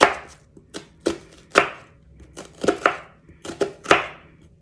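A knife dicing an onion on a cutting board, about a dozen crisp, irregular chops close up with quiet pauses between them, no voices.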